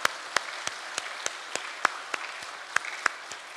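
Members of a Korean Sunday church congregation clap together in sharp, evenly spaced claps that ring in a steady rhythm at moderate to faint volume.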